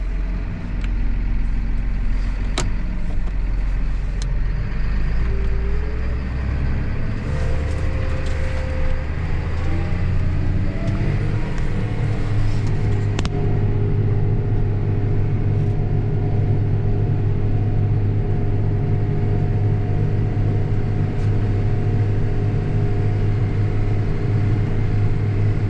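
A John Deere 7920 tractor engine runs steadily throughout, a loud, continuous low rumble with a humming drone, hauling manure, with no talking.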